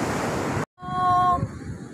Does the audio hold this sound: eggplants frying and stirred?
no